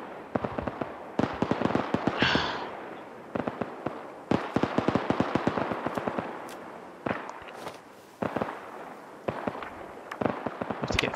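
Repeated bursts of rapid machine gun fire in the military video game ARMA 3, sharp cracking rounds in clusters with brief gaps, some shots nearer and louder, others more distant, with no talk over them.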